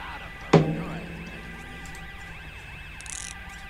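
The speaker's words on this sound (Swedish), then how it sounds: "det är mycket sirener och grejer" Police sirens wail in a GTA video game, with a loud impact early on, then several overlapping sirens sweeping up and down steadily at moderate volume.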